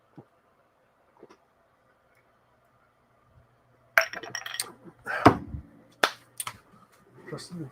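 A cola glass and a can knock and clink together close by, a quick run of sharp bright taps and rattles after a quiet start.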